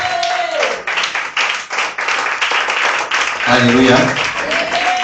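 A church congregation at a Sunday service claps and applauds in praise, a dense, steady wash of hands throughout, with a preacher's voice and a sung alleluia rising over it.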